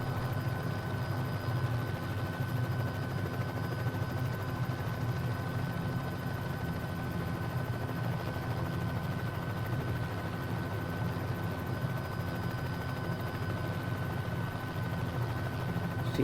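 A Bell 206 JetRanger helicopter coming in to land gives a steady, unbroken turbine and rotor drone, even and moderately loud throughout.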